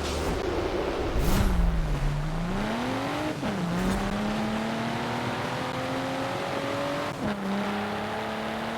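Loud racing car engines in the video game Forza Horizon 4, including a Volvo, roar and rev continuously, pitch rising and falling as gears shift, with a few sharp bursts of acceleration.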